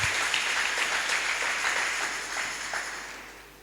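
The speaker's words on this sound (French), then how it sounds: "On acclame." A church congregation applauds at a Sunday service, a dense wash of clapping that is loudest at the start and slowly thins and fades across a few seconds, with no voices.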